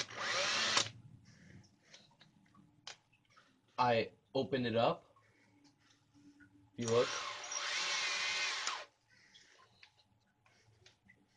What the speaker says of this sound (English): I take my drill right here,